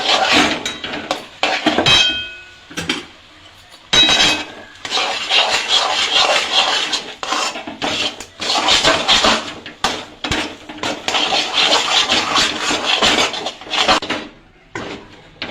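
Rice flour dough being beaten and mixed in a pot for chushi payesh, heard as repeated knocks and scrapes of a spoon against the pot, fairly close and continuous, with no talking.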